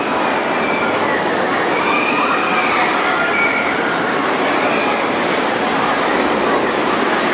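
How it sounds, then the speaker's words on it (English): A subway train at Cedar Point amusement park in Sandusky, Ohio rumbles loudly and continuously, a steady roar with a faint high squeal of wheels on rails. "Subway."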